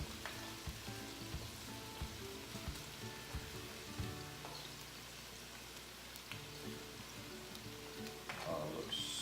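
Braciole frying in a pan over a medium-high flame, a steady close sizzle with soft crackles and a few clinks of tongs running throughout.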